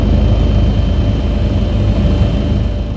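Firefighting aircraft flying over a forest fire near Izmir, a steady, loud low-pitched engine and propeller drone filling the whole stretch with no break.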